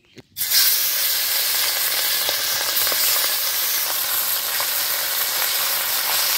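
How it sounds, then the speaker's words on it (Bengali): Small mixed fish hit hot mustard oil and a loud, steady sizzle erupts, hissing and crackling continuously and close by, with no talking. "এখন মাছগুলো ভেজে নিব।"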